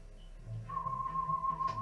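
A person whistles a single sustained, wavering high tone imitating the sonic screwdriver from Doctor Who, faint and close, starting after a short pause and holding to the end.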